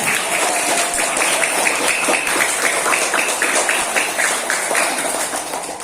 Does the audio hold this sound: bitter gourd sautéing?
no